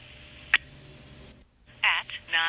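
Home telephone ringing unanswered in a house on a snowy morning: one short electronic chirp, a pause, then two louder warbling rings, fairly near and alone.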